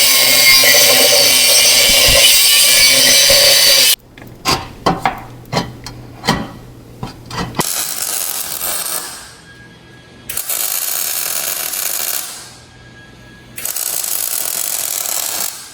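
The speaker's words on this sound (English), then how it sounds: "I did some fitting and grinding" Angle grinder working steel for an X brace in a 1951 Henry J frame: loud continuous grinding bursts separated by pauses, plus a stretch of sharp metallic taps and clanks, close up with no talking.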